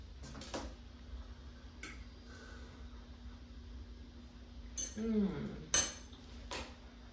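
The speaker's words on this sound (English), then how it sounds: "So let me cut a piece and I'll try it." A knife and fork cut into a piece of air-fried Filipino longanisa sausage on a plate, giving a few scattered, sharp clinks and a brief scrape, close but quiet against a near-silent background.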